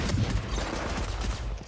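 A turret firing in Valorant during a tournament match, a rapid continuous burst of gunshots filling the short moment, fairly loud, with no talking over it.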